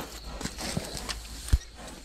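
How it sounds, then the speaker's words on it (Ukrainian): A pair of strong mares walk on a rural path, their hooves giving a loose series of soft thuds and clops, one louder knock near the end, fairly quiet overall. "Наймоцніші коні на районі."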